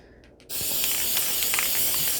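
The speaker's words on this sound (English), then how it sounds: "I'm deep in my garbage can, and I'm spraying with this stuff." A sustained, loud aerosol spray hisses steadily for about two seconds inside a garbage can after a brief quiet start, with faint rattling underneath.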